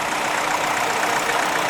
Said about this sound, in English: And we have another Grey Ferguson, a diesel this time.